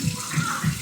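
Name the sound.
washing hands under running tap water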